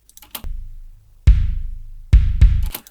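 Unprocessed metal kick drum with no effects applied, sounding as three deep, boomy thumps with long low-end decay and a soft click on each attack, played alone and close.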